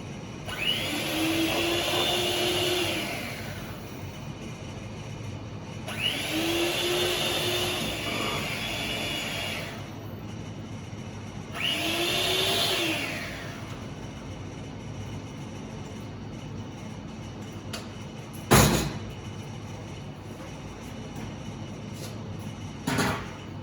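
An electric whisk beats egg into choux pastry dough in three long whirring bursts, each rising and falling in pitch, with pauses between them and a single sharp knock near the end.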